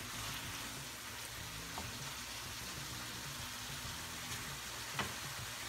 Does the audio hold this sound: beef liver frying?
yes